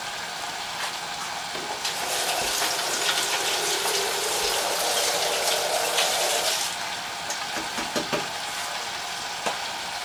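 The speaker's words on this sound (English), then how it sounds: "There's a piece of celery, but I gotta wash it off." Tap water gushes for about five seconds while celery is rinsed under it, with quieter kitchen handling noises before and after.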